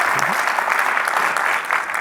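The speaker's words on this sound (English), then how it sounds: "a big warm round of applause for Chris and all the work they've done" A conference audience applauds a panel speaker at a media and AI session, a steady, full burst of clapping throughout.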